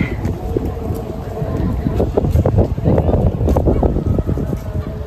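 Steady wind buffeting a microphone outdoors beside a water reservoir in Calgary, a low rumbling roar throughout, with voices talking faintly underneath.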